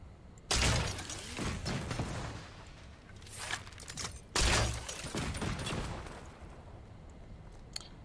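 Miniature bombs from an arrow exploding in Fortnite, two sharp blasts about four seconds apart, each trailing into a crackling rumble, with no talk.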